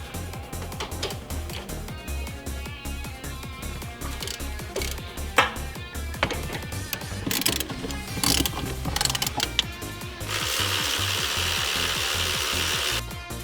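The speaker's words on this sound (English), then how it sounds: "Now we have those bolts, so we're going to be installing those bolts" Ratchet clicking in quick strokes while tightening shifter bolts on a Nissan 240SX S13 transmission, with metallic knocks and rubbing scrapes, close up, ending in a steadier grinding rasp.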